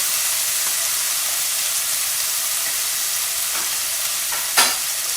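Beef fries in a pan with a loud, continuous close sizzle and hiss, broken near the end by a single brief clatter.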